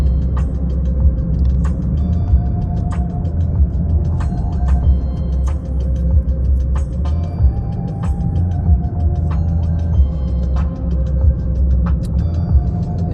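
A car driving on a road, slowing for a corner through Borrego Springs, gives a steady low engine rumble and road noise throughout, alone with no talk.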